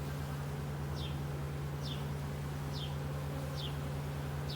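Honeybees buzz in a hive during a colony merge, a steady hum at low volume with a constant drone and a few brief, evenly spaced higher chirps over it.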